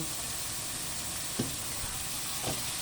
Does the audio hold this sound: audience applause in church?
no